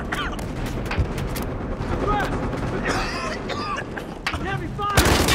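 Heavy gunfire in the shooter Battlefield Hardline, dense rattling shots and bursts of continuous fire under shouted talk.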